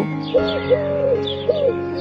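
A dove coos in three short, soft, rising-and-falling calls at an even pace, fairly close, over a quiet background.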